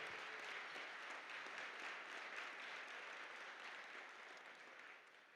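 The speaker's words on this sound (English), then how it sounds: "give yourselves a big round of applause" An audience at a charity breakfast event applauds, a steady wash of many hands clapping that stays even, then slowly tapers off, fairly faint and without voices.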